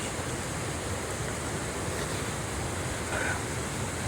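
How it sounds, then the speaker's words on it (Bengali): A waterfall's rushing water, seen from a footbridge, pours in a strong current and makes an unbroken broadband roar that stays loud and even throughout. "তোমাদের ঝর্ণাটা দেখানোর চেষ্টা করব"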